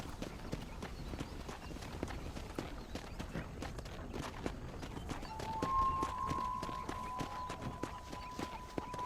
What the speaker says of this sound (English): Alright, I'll hitch this horse right here.